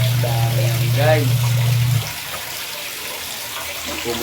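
Water runs steadily from a tap for about two seconds, then shuts off, leaving a quieter room with a voice speaking.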